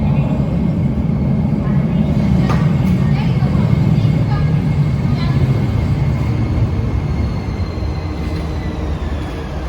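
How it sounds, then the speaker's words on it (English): A train pulls into a station in Tokyo, Japan, a loud continuous low rumble with faint squeals and clanks on top, steady throughout and close by. "Here comes the train."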